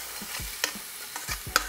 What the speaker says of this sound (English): I know you hear that sizzle.